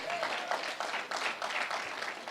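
Church congregation applauding at a worship service, an even, moderately loud stretch of clapping lasting a couple of seconds with faint voices mixed in.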